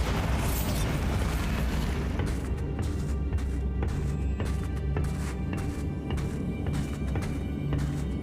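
Bombarda blasting spell cast in Hogwarts Legacy, a loud burst at the start trailing into rumbling debris, followed by a run of sharp ticking crackles over steady game ambience.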